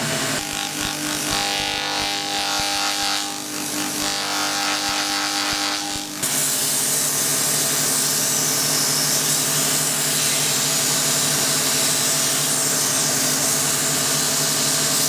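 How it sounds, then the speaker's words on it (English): A wooden piece is sanded on a spinning lathe, a steady broadband hiss and rub over the motor's whir; after a few seconds the abrasive sound grows brighter and louder as sanding continues without talk. "So onto the sanding now."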